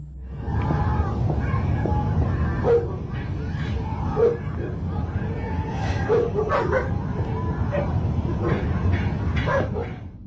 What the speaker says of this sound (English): followed by the distant barking of dogs